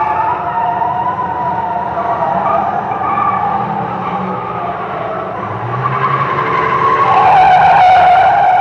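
Tires screech in a long, loud skid as cars race in a film chase scene, engines roaring, with a siren-like wail rising over the squeal toward the end.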